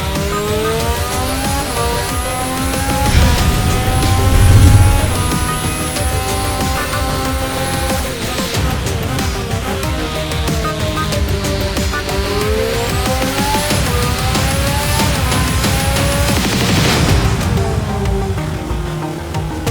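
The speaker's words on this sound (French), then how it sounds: "Lors de la phase d'accélération, le moteur à combustion interne tourne à plein régime" A Renault Formula 1 turbo engine at full revs, its loud engine note rising and falling in repeated sweeps as it accelerates, with tire squeal mixed in throughout the run.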